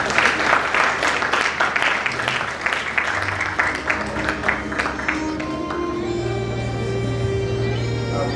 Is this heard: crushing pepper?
no